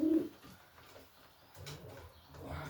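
A racing pigeon cock being handled gives a low, soft coo, a short throaty burst at the start, then quieter murmuring coos and faint rustling, close by in a quiet room.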